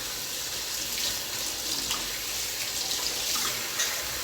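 A kitchen tap runs steadily for washing a couple of plates, a constant watery hiss with faint splashes and drips throughout, close by with no talk.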